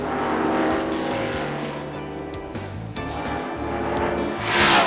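NASCAR stock cars from the 1993 season race side by side on a road course, loud engines roaring and shifting pitch as they accelerate and pass, with a sharp surge of noise near the end.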